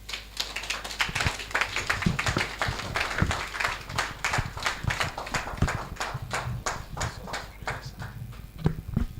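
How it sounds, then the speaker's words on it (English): Audience applause after a talk at a business intelligence and leadership conference, a steady patter of many hands clapping at moderate volume throughout, with little talk. "There's a round of applause for Prof again"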